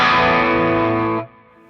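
Electric guitar through a Seymour Duncan Pickup Booster set to a higher-output humbucker position, a thick, distorted sustained chord ringing loudly for over a second before being abruptly cut to a faint tail.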